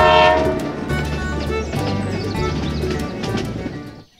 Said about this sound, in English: Whoa, here it is! The train continues its journey.